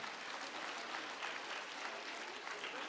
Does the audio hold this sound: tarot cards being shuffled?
no